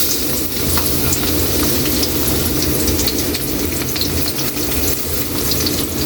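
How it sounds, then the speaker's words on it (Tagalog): Garlic frying in hot oil for pork estofado, a steady dense sizzle that runs continuously and loudly for the whole stretch with no voices over it. "Ilagay na natin yung bawang."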